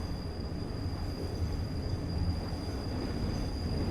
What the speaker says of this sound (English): So we are actually stopping in the station.